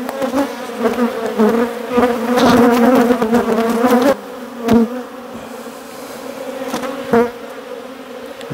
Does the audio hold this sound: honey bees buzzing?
yes